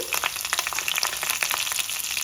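Black gram lentils, mustard seeds, crushed garlic and dried red chillies sputter in hot oil for a Telugu tempering, a loud continuous close-up sizzle with rapid crackling pops and no voices.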